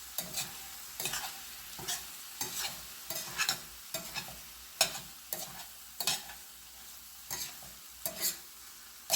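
Something is sautéed in a pan with regular stirring, a faint background sizzle broken by repeated crisp scraping strokes about once a second, close and unaccompanied by speech.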